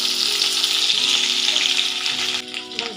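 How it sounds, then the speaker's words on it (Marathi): Chopped tomato sautéing in hot oil with a Bhogichi bhaji preparation, giving a steady close sizzle and frying crackle that fades slightly near the end. "ती टॅमॅटो चिरून घेतलेला आहे, तो पण मी आता यामध्ये मिक्स करून परतून घेत आहे"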